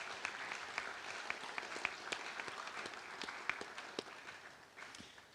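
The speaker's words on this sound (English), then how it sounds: "let's take a minute and just give a round of applause and appreciation for all of that effort." Audience applause at a school CTE senior awards ceremony in honour of teachers and support staff, a steady wash of many hands clapping with scattered sharper claps, moderately distant and sustained without talk.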